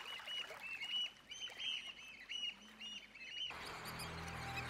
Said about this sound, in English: The oyster catchers begin to arrive.